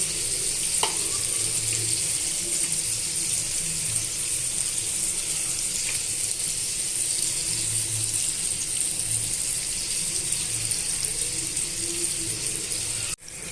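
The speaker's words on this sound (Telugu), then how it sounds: "ఈ విధంగా ముక్కలన్నీ కూడా ప్యాన్లో వేసుకొని వేగనివ్వాలండి కొద్దిసేపు వేగనివ్వాలి" Marinated fish pieces for Nellore fish fry frying in a pan, giving a steady, close, continuous sizzle that runs unbroken the whole time, with a faint clink near the start and no voices.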